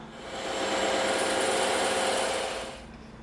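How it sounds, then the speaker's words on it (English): A bandsaw cuts through a block of EVA foam, a steady loud whining buzz that rises in quickly, holds for over two seconds and then cuts off, with no talking. "we're gonna cut that center section out on the bandsaw"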